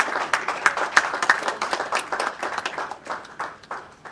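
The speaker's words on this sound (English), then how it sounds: "Please let's give him another round of applause." Audience applause at an annual business conference on climate crises and business continuity planning, a dense steady patter of many hands clapping filling the room without any speech over it.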